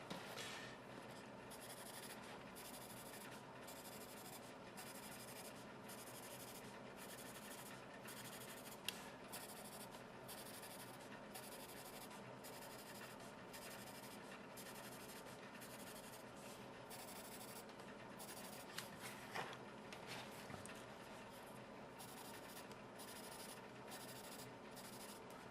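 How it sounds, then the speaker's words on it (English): A Palomino Golden Bear pencil scribbles on paper in continuous scratchy strokes with a rapid back-and-forth rhythm, close and fairly quiet, with occasional small taps. "now I'm going to use the Palomino pencil now"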